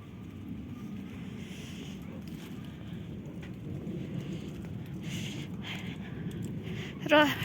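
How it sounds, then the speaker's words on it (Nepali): Rain and thunder approach after a hailstorm over a wheat field: a low, distant rumble rolls steadily beneath faint rainfall, building slightly toward the end. "ब्याकग्राउन्डमा आवाज सुनेर हामीले यो एकदम कन्फर्मका साथ भन्न सक्छौँ कि फेरि पनि पानी आउँदैछ।"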